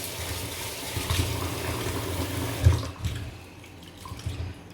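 A bowl, an oba, is washed under running water from a tap, giving a steady close rush and splash with brief louder surges as the bowl is handled, easing off toward the end, with no voices.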